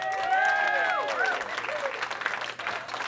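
A crowd cheers and applauds in a dense burst, with voices shouting and whooping over the clapping, close and lively.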